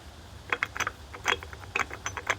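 A ratchet fitted with a 1 1/4 inch socket clicks on a car's lug nuts, giving short bursts of crisp, close pawl clicks over about two seconds.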